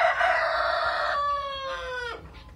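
A rooster shut in a coop with another rooster crows once, a loud, close, drawn-out call that falls away at the end.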